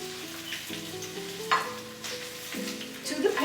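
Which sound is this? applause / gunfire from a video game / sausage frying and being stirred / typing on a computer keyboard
sausage frying and being stirred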